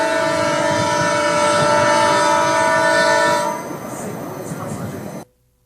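Train rolling steadily along rails in Maranhão, a loud continuous rumble with rattling carriage noise that eases to a quieter run before cutting off abruptly.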